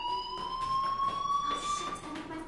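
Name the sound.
fire alarm ringing in a video game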